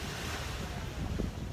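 Steady wind and surf rolling in at Butterfly Beach in Tuen Mun, Hong Kong: a continuous broadband rush with low rumble, fairly loud and unbroken, no voices.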